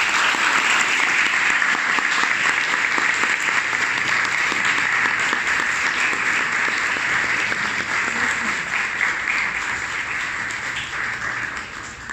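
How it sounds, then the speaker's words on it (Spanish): Loud, dense applause from an audience at a medical presentation on deep brain stimulation for Parkinson's, a steady crowd of clapping hands that holds for about twelve seconds and eases slightly at the end. "Un aplauso, por favor."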